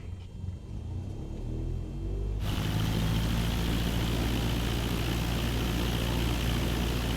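Seaplane in Microsoft Flight Simulator 2020, one notch of flaps set for its added float structure and drag, throttles up for takeoff: a quiet idle hum swells abruptly into a loud, steady propeller-engine roar that holds to the end.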